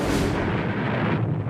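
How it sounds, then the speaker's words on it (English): A heavy boom of artillery-like fire, played over loudspeakers during Marine Corps Crucible training, rolls out and decays, loud and close with a crackling, echoing tail. "Loudspeakers play sounds of gunfire and explosions to create a more realistic combat environment"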